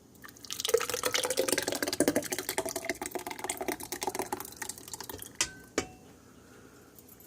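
Liquid pours and drips while homemade pumpkin pie is made from scratch, a close patter of fast drips and trickles that thins out, ending with a couple of sharp knocks and quiet.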